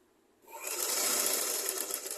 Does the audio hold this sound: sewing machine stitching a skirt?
yes